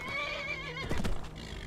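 A horse in the video game Skyrim lets out a single loud, wavering whinny that ends in a snort, with no speech over it.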